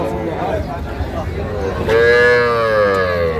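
Young bull and heifer calves at a busy cattle market: indistinct background chatter and bustle give way midway to a loud, sustained moo from a nearby calf that carries to the end.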